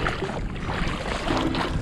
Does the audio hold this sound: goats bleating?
no